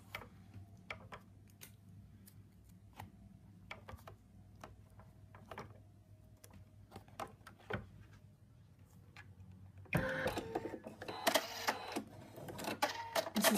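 An embroidery machine stitches an outline to secure fabric to stabilizer for an in-the-hoop zipped ladybug purse, giving a quiet, steady run of fast mechanical ticks. Louder, busier handling noise joins near the end.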